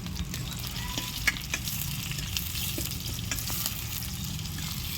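Onions and green chilies frying in a pan over a wood-fired stove, a steady dense sizzle with scattered stirring clicks and scrapes throughout, close and continuous with no voices.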